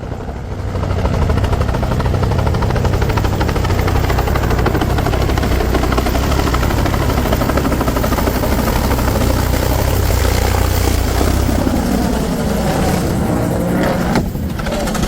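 A Bell 220 helicopter flies over Huntington Beach, California at a public event near the Pacific Coast Highway, its rotor and engine roaring loud and close in a steady, unbroken drone that lasts throughout.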